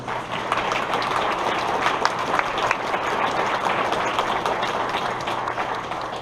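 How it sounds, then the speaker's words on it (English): Audience at a protest event inside the RCTC Heintz Center applauding: a steady crowd clapping at moderate distance, continuous and even throughout the few seconds. "We can give them a round of applause."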